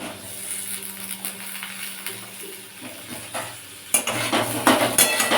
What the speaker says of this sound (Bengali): আশা করি চটপট করে ফাটছে জিরেটা আওয়াজ পাচ্ছেন জিরে আর তেজপাতা ফোড়ন দিয়েছি